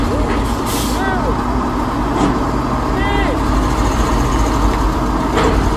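A large truck rumbles steadily nearby, with short hissing bursts like air brakes and a few squeals, while people talk over the engine noise.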